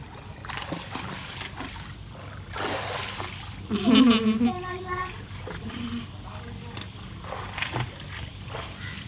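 People splash in a swimming pool at a beach resort in South Goa, with intermittent water sloshing and a louder splash midway, while adults and someone talk nearby.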